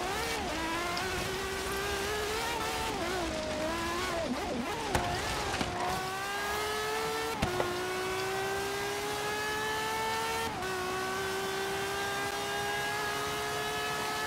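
A Ferrari 599XX race car engine in the Forza Horizon 3 video game revs and shifts through gears, its pitch climbing and dropping repeatedly, with a few short thumps along the way.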